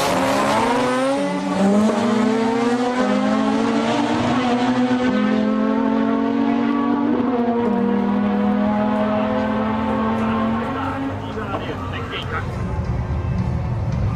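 A Series 6 Mazda RX-7 race car with a T88 34D turbo and a body kit, on track at Central Circuit. Its loud, sustained engine note holds steady with gear-change dips, and a voice talks over it throughout.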